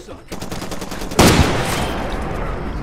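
Rapid gunfire in the video game Far Cry 2, a string of quick repeated shots followed by one loud close burst, with brief speech around it.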